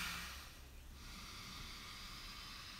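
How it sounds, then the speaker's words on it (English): A single long, breathy exhale during a yoga pose, very quiet and close, over a faint steady hiss of room noise. "Take a few deep breaths here."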